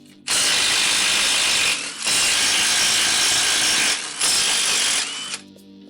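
Ratchet turning a 3/4 inch socket to remove brake bolts during a rear brake shoe and wheel cylinder job, heard as loud, close clicking bursts in three runs separated by brief pauses, with no talk.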